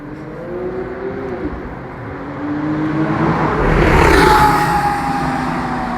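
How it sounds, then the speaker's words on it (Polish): A Porsche engine roars past at night in Wrocław, building to a loud peak and then fading, with a rising whine and road rumble. No talking. "no, to Porsche tak hałasował."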